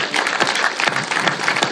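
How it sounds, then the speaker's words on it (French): Audience applause for a couple celebrating fifty years of marriage, a steady, dense patter of many hands clapping, fairly loud and continuous throughout, with no speech over it. "chaque fois, ils m'applaudissent"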